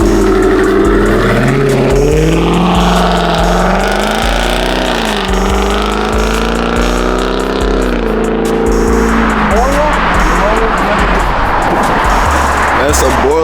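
An Infiniti Q50 fitted with a Gemini cat-back exhaust revs hard and steadily, its engine note climbing and falling through repeated pulls before settling into a loud, rough drone, continuous and close.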